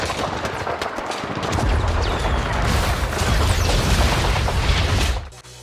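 Cannons firing in Lego Fortnite, with loud overlapping booming shots in a rapid, sustained barrage that builds and then cuts off abruptly near the end.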